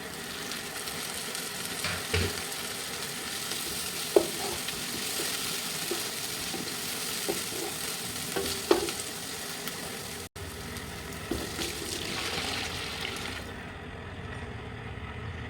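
Capsicum sautés in a covered pot on a home stove, a steady, moderate sizzle and crackle with a few louder clinks and a brief pause partway through.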